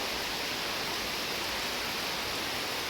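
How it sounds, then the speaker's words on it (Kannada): Heavy rain pours down in a dense, constant roar of broadband hiss with no breaks, loud and close, with no voices. "ಮಳೆ ಜೋರು ಬರ್ತಾ ಉಂಟು ನೋಡಿ,"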